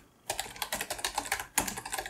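Clattering keystrokes on a Commodore 64 keyboard, a quick irregular run of clicks after a brief pause, then a sharper keypress and more rapid typing, close and clear with no voices.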